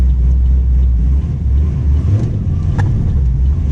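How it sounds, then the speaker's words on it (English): Supercharged 2015 Chevrolet Camaro SS with a chattering clutch, a loud, deep engine rumble with uneven low shudder and a few faint clicks and ticks, heard close up without speech. "that clutch chatter"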